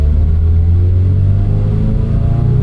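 Modified 2022 Subaru BRZ with a full catless exhaust, a loud, steady deep engine drone with strong low harmonics, close and continuous with no talk.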